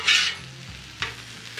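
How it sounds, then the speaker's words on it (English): Vegetables stirred in a frying pan, a brief hiss of the spatula scraping through them followed by a few softer scrapes, close and alone with no talk. "can you use this and stir the vegetables some more?"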